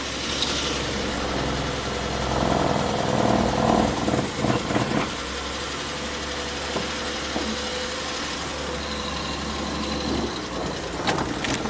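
A 1967 Triumph GT6 sports car engine running steadily as the car pulls away, with a low droning hum, a slight swell in the middle and some rattles and knocks over it.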